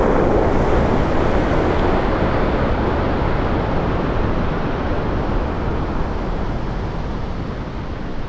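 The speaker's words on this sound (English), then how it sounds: "heading out to see if I can get some wave photos. They're pretty big right now." Big ocean waves rolling in at Santa Cruz Pier with surfers out, a steady loud roar of surf mixed with wind buffeting the microphone, continuous and close throughout.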